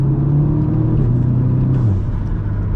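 A loud turbocharged Audi S3 engine with a Stage 1 tune drones and revs up close, its pitch sliding down as it eases off, with a brief fluttery blow-off whoosh in the upper end.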